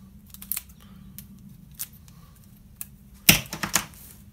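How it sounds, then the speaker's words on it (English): Scissors snip through material for making mackerel feather fishing lures, a few light clicks over a low background hum followed by a quick cluster of louder cuts near the end. "So I'll just cut it"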